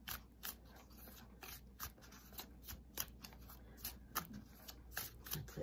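Tarot cards being shuffled in quick repeated riffles and slides, close and fairly quiet, with a steady low hum underneath and no talking.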